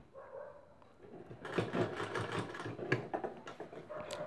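A sewing machine runs a double line of stitching on a handmade potli bag, starting with a few slow clicks and then settling into a fast, steady rattling run close by.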